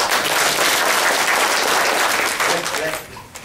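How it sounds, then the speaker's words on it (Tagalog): An audience claps loudly in a steady, dense burst at a marketing plan presentation, the applause fading toward the end. "Palakpak naman kay Wilmar."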